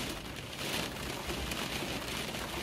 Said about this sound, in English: it is a little bit rainy and the wind is gusty at times